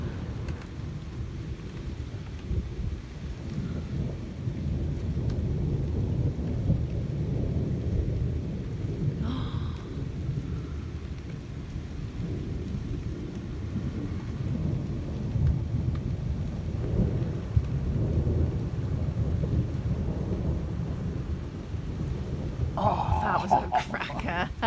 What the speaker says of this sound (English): Much as I like the downpour